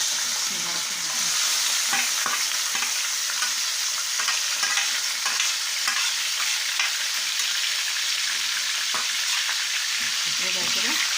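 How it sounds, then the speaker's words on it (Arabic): Liver frying in hot oil in a tray for an Alexandrian-style dish, a loud continuous crackling sizzle close up, broken by repeated short stirring scrapes and clatters across the whole stretch, with no voices. "الزيت اهو سخن معاه، كده احط عليه الكبده كلها."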